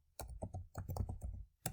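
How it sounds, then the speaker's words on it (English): Quick keystrokes on a computer keyboard while a search term is typed, a burst of close clicks with brief pauses, short and alone. "in my search bar here, I'm just going to type in recycling"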